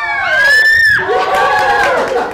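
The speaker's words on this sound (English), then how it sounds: "If you see an alligator, close your eyes and scream." Children scream loudly together, a sustained shrill group shriek that dips and then rises again.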